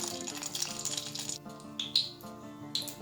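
Mustard seeds and urad dal frying in hot oil, a steady, hissing sizzle with faint crackles and a few brighter pops, quiet and close, over soft background music.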